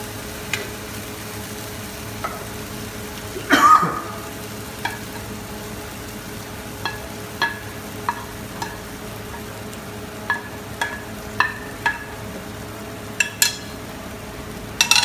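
Tomatoes and potatoes browning over very low heat in a frying pan, a soft steady sizzle broken by scattered clinks and scrapes of stirring, with one louder clatter early on.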